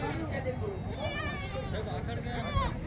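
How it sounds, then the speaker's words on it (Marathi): Lambs and goat kids bleat at a busy goat market in Vasmat, Hingoli district, Maharashtra, selling Osmanabadi goats. Several wavering bleats sound close over a constant crowd murmur. "मेंढराचे पण पिल्ले आलेले आहेत."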